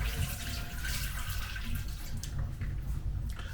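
Tap water runs steadily into a sink while rice is washed, a close, continuous broadband rush with faint splashing and no speech.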